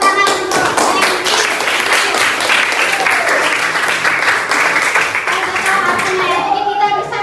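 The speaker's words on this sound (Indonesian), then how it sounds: "beri tepuk tangan untuk Henry" Classroom applause for a student named Henry, a dense burst of many hands clapping at close range that carries on steadily, with children's voices mixed in throughout.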